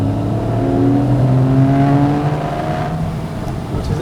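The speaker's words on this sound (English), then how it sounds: "Let's hear it sound." A Porsche 911 Carrera S of the 991.1 generation with a 3.8 litre flat-six revs steadily, its rising harmonic drone loud and close for about four seconds with no talking.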